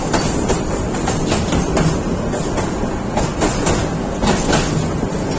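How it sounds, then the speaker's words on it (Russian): A tram rattles and clatters loudly over worn tracks, a continuous dense metallic roar with repeated sharp clicks and bangs from the rails, like a huge tin can shaking, with no voices. "ехать в нем не так уж приятно, как хотелось бы, а все из-за путей, вследствие которых трамвай гремит как огромная консервная банка"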